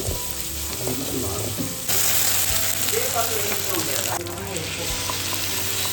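Onion and plenty of curry leaves fry as a masala base in a pan, giving a loud, continuous sizzle with stirring clatter that grows a little louder partway through. A voice is faintly audible.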